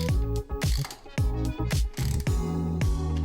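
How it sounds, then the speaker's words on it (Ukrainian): Handlebar clamp bolts on a restored 1981 Karpaty moped are tightened with a ratchet wrench, giving close, rapid clicking bursts repeated in several short strokes with brief pauses between. "Вставляємо всі болти і поступово затягуємо їх навхрест, але не до кінця."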